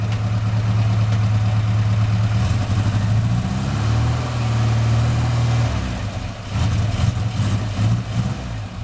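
The engine of an Austin-Healey Frogeye Sprite, newly swapped in and running roughly with a faulty throttle return spring, idles with a deep, close, loud drone that rises and falls slightly as the revs wander.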